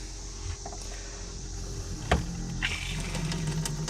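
A small electric pump hums steadily nearby while flushing antifreeze through a generator, with a faint motor whine and a sharp click or knock midway.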